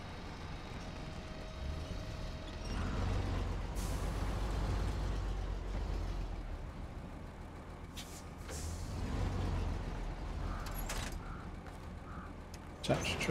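A heavy truck in the SnowRunner off-road driving game hooks up a service trailer: metallic clanks and an air-brake hiss ring out over a steady low engine rumble.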